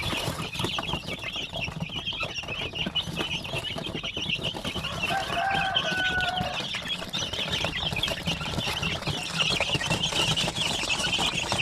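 Chickens and chicks cluck and peep steadily at a farm, many birds overlapping at close to middle distance, with a few brief chirps rising above the flock.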